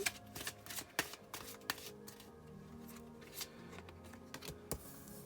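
Playing cards being shuffled repeatedly, with crisp riffling bursts and sharp snaps, close by, no voices.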